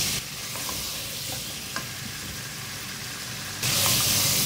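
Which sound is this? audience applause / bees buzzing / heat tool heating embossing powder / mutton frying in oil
mutton frying in oil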